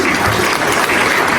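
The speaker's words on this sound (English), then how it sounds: "Keep clapping, keep clapping" Loud, dense applause from a crowd at a Big Brain Naija reality TV show event, a continuous wash of clapping close by with no talk.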